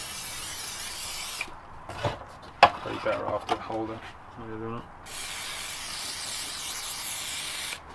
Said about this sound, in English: So first step for this part anyways, is to just spray it down.